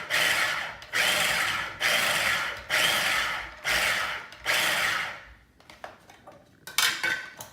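A knife chops through cabbage for a raw vegan apple salad: five or six dense, rhythmic bursts of close cutting, each lasting under a second with short gaps, then lighter scattered clatter.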